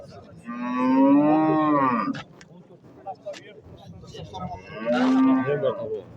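Two long, loud cattle moos at the Kungrad livestock market, one early and a second a few seconds later, with crowd noise and chatter in between.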